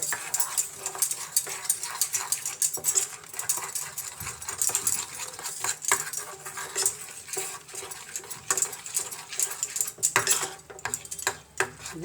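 A utensil stirs chocolate cake cream in a bowl with continuous scraping and soft knocking against the sides, a steady, moderately close rhythm with no talking over it.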